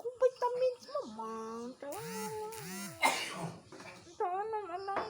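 A young child's harsh, breathy cough bursts out once near the middle, surrounded by high, whining child vocalizations and sing-song voicing.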